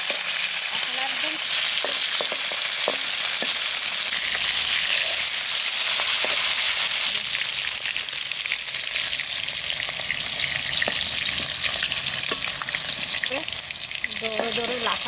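Sonabogo river fish frying in hot oil, a loud, dense, steady crackle and sizzle with scattered sharp pops and spatters throughout, close up and continuous.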